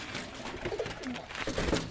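Pet pigeons in a home loft coo in soft, throaty rolls, several birds overlapping at close range against a steady background hum.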